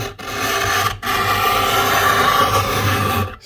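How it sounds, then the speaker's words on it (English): A two-sided scraper blade rasps steadily across wood, stripping away an old finish in long continuous strokes with brief pauses between passes, close and fairly loud. "scrape the old finish off"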